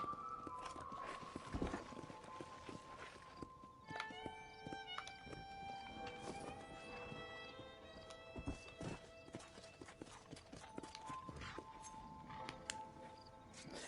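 Hooves clip-clop at a steady walking pace in Red Dead Redemption, with an occasional horse whinny and layered game music tones underneath.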